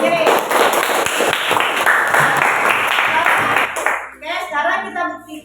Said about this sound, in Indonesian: Kita beri aplaus untuk diri sendiri.